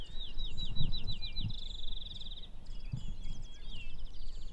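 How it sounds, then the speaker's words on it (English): A field sparrow sings a series of high, clear notes that speed up like a bouncing ball, over a low outdoor rumble at Crex Meadows, Wisconsin. "That is the field sparrow."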